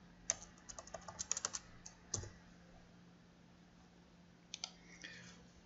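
Bursts of crisp computer keyboard keystrokes, a quick run of taps early, a single louder key press, then a few more clicks after a pause, close and quiet over faint hum.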